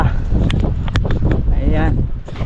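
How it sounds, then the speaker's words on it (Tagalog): Strong wind gusts across an open planting field and buffets the microphone with a heavy, rumbling roar. The rumble stays constant under people talking nearby. "malakas na naman ang hangin"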